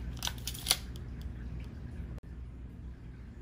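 Scissors make a few quick, close snips through material for a Star Wars themed aquarium build, then a low background hum carries on with one faint click.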